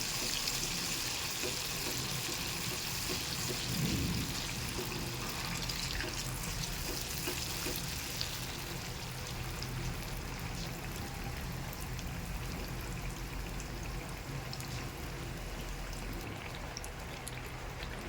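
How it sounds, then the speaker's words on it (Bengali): Heavy monsoon rain pours down in a steady, dense roar that lasts throughout, with no breaks and no one speaking. "বৃষ্টি হচ্ছে ভীষণ পরিমাণে মেঘ ডাকছে"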